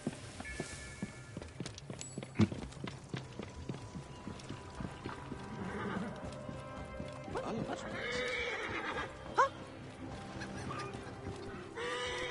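A horse in the Assassin's Creed Origins game whinnies and snorts amid clip-clopping hooves, with a couple of sharp, close neighs standing out over a busy background.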